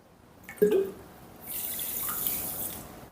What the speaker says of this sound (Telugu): అరకప్పు నీళ్లు తీసుకుందాం